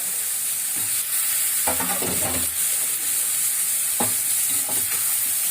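Onion, capsicum and tomato sauté in a pan for prawn gravy, with a steady sizzle broken by a few loud scraping stirs of a spoon against the pan, close by and with no voices.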